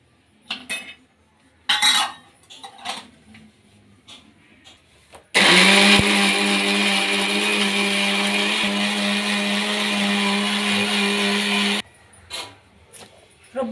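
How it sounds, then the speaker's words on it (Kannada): A mixer grinder grinds masala of cumin, chilli, coriander and garam masala powders and turmeric, one loud steady whine of about six seconds between clinks of utensils. "ರುಬ್ಬಾಗಿದೆ ಮಸಾಲ."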